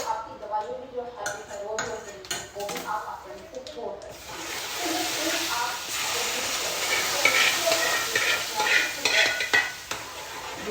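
Cumin seeds and Kashmiri red chilli hit hot oil and burst into a loud, steady sizzle that holds to the end, after a few seconds of clattering pan and utensil knocks at the start.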